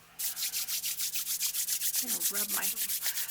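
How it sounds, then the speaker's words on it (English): Hands rub briskly together in a steady back-and-forth rhythm, each stroke a dry swish, about a dozen close strokes with a faint voice underneath near the end. "Rub my hands."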